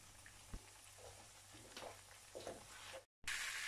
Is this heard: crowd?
no